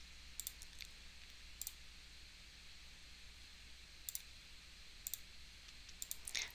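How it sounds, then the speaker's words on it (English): Calculator keys pressed in a quiet room while working a math problem, a handful of faint, sharp clicks spaced irregularly, some in quick pairs. "Alright, so we want to type into our calculator negative 1/2."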